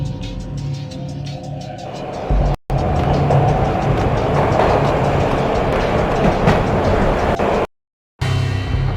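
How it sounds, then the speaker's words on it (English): A train rolls along the rails in the Max Payne video game, giving a loud, continuous rumble with rhythmic clickety-clack and a steady roar, briefly cut out twice by short gaps of silence. "This was my second train ride of the night."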